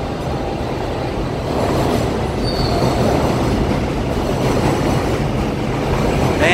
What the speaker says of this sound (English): we have the subways overhead there